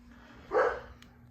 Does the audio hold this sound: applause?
no